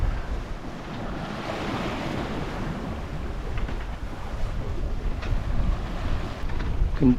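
Wind and rolling waves surround a sailboat on the Atlantic Intracoastal Waterway about a mile from an inlet, a steady broadband rush of surf and gusting wind buffeting the microphone throughout, with no talking.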